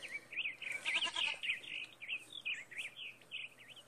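A sheep in the video game Dreamlands gives a string of high, wavering bleats, one after another, over a soft background hum.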